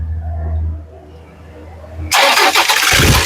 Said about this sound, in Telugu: సింగిల్ సెల్ఫ్ లో కార్ స్టార్ట్ అయితే ఎటువంటి స్టార్టింగ్ ట్రబుల్ అయితే లేదండి